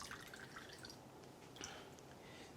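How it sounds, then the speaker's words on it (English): Water drips and trickles steadily from grated turnip resting in a strainer, a faint, continuous wet patter with small splashy accents and no talk over it. "see, the lots of water come from the turnip"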